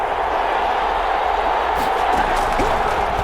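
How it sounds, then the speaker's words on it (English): A football stadium crowd at an AFC versus NFC Pro Bowl game roars steadily ahead of a big third down, a dense, continuous wash of cheering with faint voices mixed in. "The crowd getting into it as we come up on a big third down."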